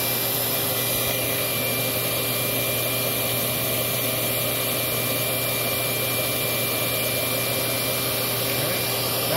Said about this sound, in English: So first we'll start it off with the suction motor.